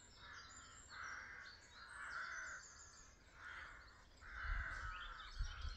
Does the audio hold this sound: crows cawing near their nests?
yes